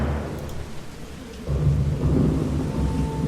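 Thunderstorm in the video game Heavy Rain, with steady rain hiss throughout and a deep rumble of thunder swelling in about halfway and rolling on to the end.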